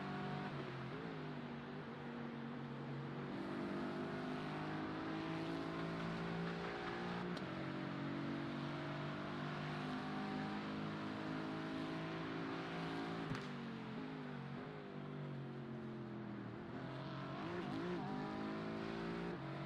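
Race car engines at Circuit Zolder in a sim racing game, a loud steady drone of revving motors with pitch climbing through gears and dropping on shifts, several cars running close together with no voices.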